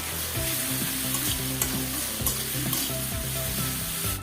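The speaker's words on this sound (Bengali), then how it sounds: "আমি সবগুলি একসাথে ভালোভাবে ভেজে নেব।" Spices frying in a pan with chicken and cauliflower, a steady close sizzle with rhythmic stirring scrapes throughout, no voices.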